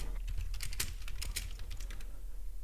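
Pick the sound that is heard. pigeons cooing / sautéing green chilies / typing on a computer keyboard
typing on a computer keyboard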